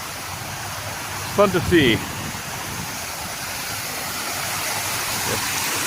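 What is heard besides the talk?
artificial waterfall on a plant wall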